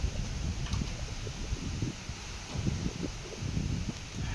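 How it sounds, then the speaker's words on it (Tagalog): Wind blows in off the sea during a heavy rainstorm, a steady low rumbling buffet against the microphone with soft gusty surges and no voices. "Kaya ang hangin gikas dagat."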